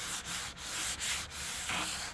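Light rhythmic sanding, a sanding sponge rubbed back and forth over a cabinet door in short strokes with brief pauses between passes, close and alone.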